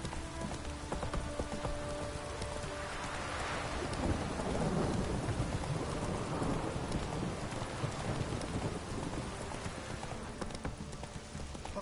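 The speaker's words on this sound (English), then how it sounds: "This downpour's a bastard, it is." Steady heavy rain pours throughout in The Witcher 3: Wild Hunt, a dense broadband hiss with low rumbling underneath and scattered clattering, like hooves on wet ground.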